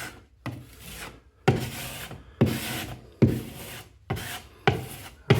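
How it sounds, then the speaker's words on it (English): Hand sanding over wood filler patches on a room wall: six rhythmic, close scraping strokes, each starting with a sharp rasp and trailing off, separated by short pauses, with no talking. "I'll obviously have to sand just like that."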